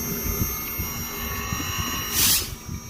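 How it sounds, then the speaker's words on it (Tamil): An Onida inverter air conditioner compressor runs after repair, giving a steady loud electrical hum with a low throbbing underneath. A brief hiss swells near the end. "கம்ப்ரஸர் ஃபஸ்ட்டுலேருந்து செகண்ட் ஸ்பீடு மூவ் ஆகின்னு இருக்குது"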